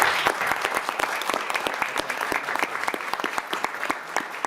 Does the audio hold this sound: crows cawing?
no